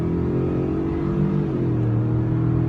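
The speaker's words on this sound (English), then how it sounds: "It's digging deep into the rev range, just wants to get you going." A 2019 Ford F-150 Limited pickup with the Raptor engine accelerating hard in normal mode, a steady, loud interior engine drone climbing through the revs with a slight pitch sweep, no talking.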